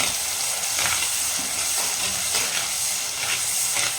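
Tomatoes and onions sautéing in a pan for a village-style Tamil sankara fish curry, a continuous close sizzle and hiss with light stirring scrapes throughout.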